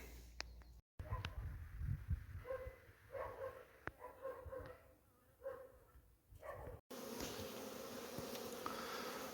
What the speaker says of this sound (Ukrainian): 11 лютого масовий обліт бджіл.